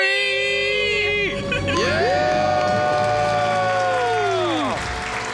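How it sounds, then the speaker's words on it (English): A studio audience cheers and screams at full volume after a debt-free countdown, a dense sustained roar of whoops and high shrieks with no gap, the voices sliding and wavering together throughout. "Let's hear a debt-free scream."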